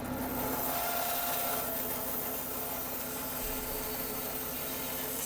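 A wooden bow riser is shaped by hand, giving a continuous close rasping, rubbing scrape of a tool worked over wood, loud and steady without pauses.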